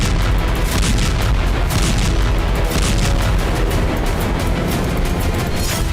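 Dense, continuous booming blasts from Israeli air strikes on Houthi targets in Yemen, loud and overlapping for the whole stretch with no pauses or voices.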